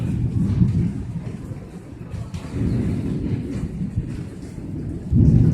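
Steady low rumbling rain noise, fairly loud and continuous, swelling slightly at moments, with no voices.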